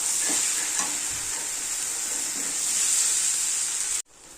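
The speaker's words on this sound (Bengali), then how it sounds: "দিয়ে আবার এর সাথে ভালো করে কষাতে হবে" Fried prawns being sautéed with jackfruit curry in a pan give a loud, steady sizzle with soft stirring scrapes throughout, ending abruptly near the finish.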